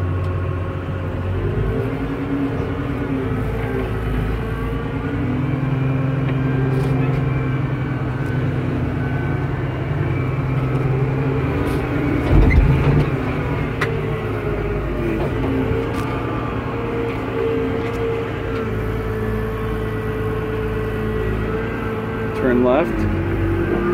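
A tractor with a front bucket drives through mud, its engine a steady loud rumble throughout with a few louder surges, under occasional talk.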